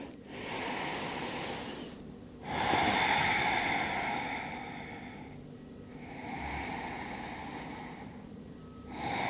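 Slow, deep breathing during a pause in a yoga session: several long, airy inhales and exhales, close and clear, separated by short quiet gaps.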